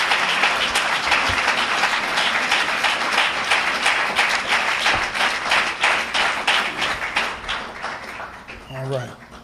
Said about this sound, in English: Let's give her a well-deserved round of applause